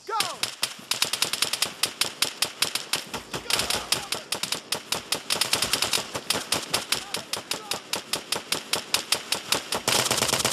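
Rapid machine-gun bursts from an ARMA III battle ring out loud and close, long runs of sharp rattling shots with brief gaps, while voices shout faintly underneath.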